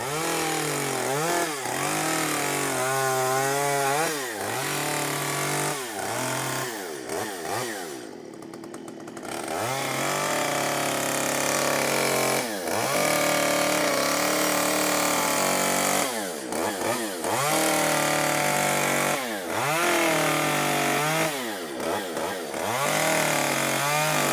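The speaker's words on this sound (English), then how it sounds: "Oh, someone is sawing away again." A chainsaw roars steadily, its engine pitch rising and falling repeatedly as it bites through a tree trunk, loud and close with a short dip midway.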